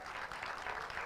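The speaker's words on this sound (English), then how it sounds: "Why don't you clap for yourselves?" A crowd at a Kenyan political gathering gives a brief burst of applause. The dense clapping sounds fairly faint and distant, as though picked up from across the venue.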